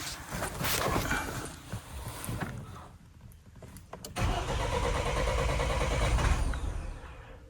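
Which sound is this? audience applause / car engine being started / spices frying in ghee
car engine being started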